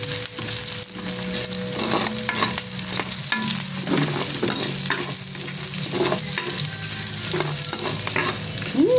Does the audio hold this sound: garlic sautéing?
yes